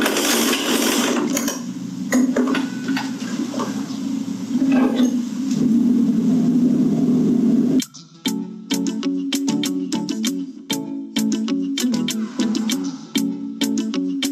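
A sewing machine stitches the strap onto a fabric bag, a loud, steady motor whir that breaks into a close, rapid rhythmic chatter of needle strokes partway through.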